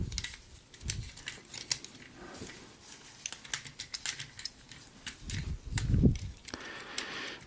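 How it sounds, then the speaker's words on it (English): Very light ratchet joints click in the legs of a Transformers Masterpiece Thrust MP-11NT figure, producing a string of small, faint, close clicks and plastic creaks scattered irregularly over a quiet background. "he's got ratchets, it seems like, in his legs. Very, very light ratchets."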